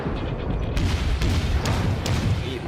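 Warship guns firing in World of Warships, a dense rumbling barrage of booms with sharp blasts punctuating a heavy low roar.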